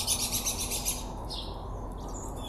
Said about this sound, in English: these birds acting like they fighting them